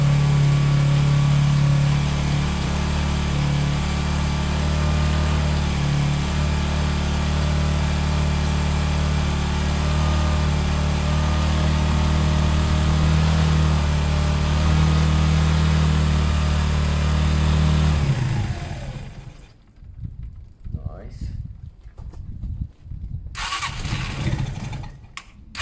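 A Zontes 125 motorcycle engine warming up at idle after a fuel tank flush, a loud, steady low rumble that holds for about eighteen seconds and then cuts out, followed by quieter clatter and handling noises.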